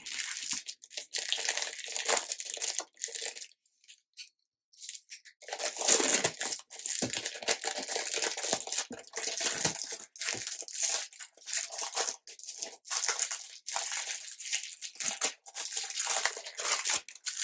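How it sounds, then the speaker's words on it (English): A foil seal is torn off product packaging and crumpled, giving loud close crinkling and crackling in dense bursts with a couple of short quiet gaps. "I'm gonna take foil from both of them, just so you guys know, really quickly, so then we don't have to deal with the crinkle"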